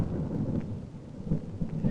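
Thunder rolls through an electrical storm on an old 16mm film soundtrack, a low continuous rumble with faint rain beneath, swelling in a few heavier surges.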